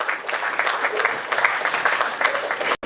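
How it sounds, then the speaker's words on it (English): Steady crowd applause for the Deputy Chairman of Fairway at a national literary awards ceremony, a dense even wash of clapping from a full hall that breaks off abruptly near the end. "give him a round of applause"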